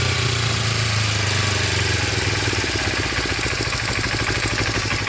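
A 1986 Kawasaki Ninja motorcycle engine under restoration idles steadily and loudly up close, a continuous low rumble with a slightly uneven putter and no voices.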